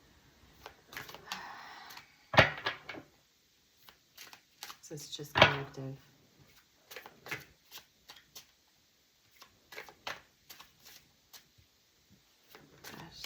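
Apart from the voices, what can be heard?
shuffling tarot cards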